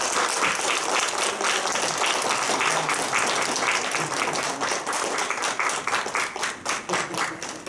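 Crowd of guests applauding a cake cutting at a Korean seventieth-birthday celebration: loud, sustained clapping that continues steadily, then loosens into more separate, rhythmic claps toward the end.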